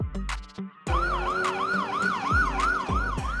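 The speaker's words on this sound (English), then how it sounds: "Police pickup truck." Police pickup truck siren wailing in a fast, rising and falling cycle, loud and close with a low rumbling backdrop, preceded by a brief burst of separate tones before the steady wail begins.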